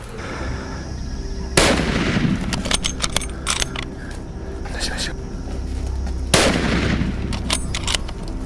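Hunting rifle shots during a Zimbabwe savanna hunt: two sharp, loud cracks several seconds apart, each with a brief echoing tail, over outdoor ambience and quiet talk.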